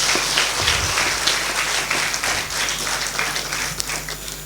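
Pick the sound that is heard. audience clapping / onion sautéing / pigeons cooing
audience clapping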